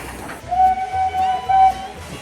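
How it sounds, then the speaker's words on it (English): A toy steam train gives two sustained, steady whistle toots in close succession, close and clear, with no talking. "This is my steam train."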